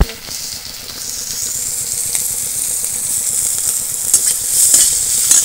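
Chopped onions with whole cumin seeds and green chillies fry in oil in a kadai, giving a steady, close sizzle and hiss with occasional stirring scrapes and clinks throughout.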